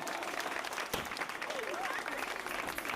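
Guests clap at a graduation party, a busy patter of hands from a small crowd with voices talking and calling out over it, one sharp loud clap standing out near the start.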